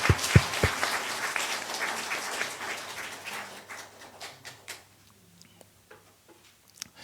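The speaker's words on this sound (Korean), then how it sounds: "이 좋으신 하나님께 영광의 박수 올리겠습니다." A church congregation applauding during a worship service, loud clapping at first that thins and fades out, leaving a few scattered claps and near quiet by the end.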